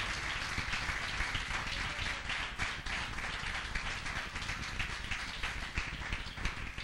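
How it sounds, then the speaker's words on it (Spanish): A church congregation claps during a sermon, a faint, distant patter of many hands that blends into a soft rain-like texture, steady and unbroken with no voices on top. "Fuerte el aplauso"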